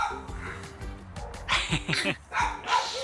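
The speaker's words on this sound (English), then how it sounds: "you'll have to excuse the barking from these little guys behind us" Several small dogs bark and yip from kennels just behind, a busy overlapping chorus of short barks that grows louder in the second half, with a few whimpers mixed in.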